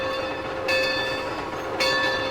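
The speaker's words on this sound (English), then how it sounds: "unfortunately, the bell is not animated, but I do like the bell sound." The bell of a TBG 70 ton Climax locomotive in Trainz 2019 rings steadily with bright repeated metallic strikes roughly every second, loud and close over a constant background rumble.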